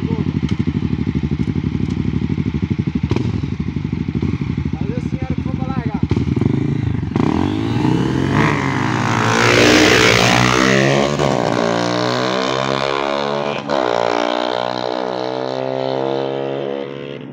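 Honda CRF 250F dirt bikes, one fitted with Belparts parts and one with Viola Racing parts, drag race from a standing start. Engines drone loudly throughout, then rev and climb in pitch as the bikes pull away, while people talk nearby.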